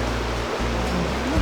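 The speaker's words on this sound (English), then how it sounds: "This is your first river, isn't it?" Broadband rushing of a river on a camping trip, a steady close wash of flowing water that fills the whole moment, with no voices.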